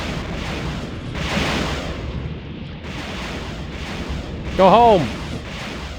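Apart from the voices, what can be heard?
naval fleet firing long range, Supreme Ruler Ultimate video game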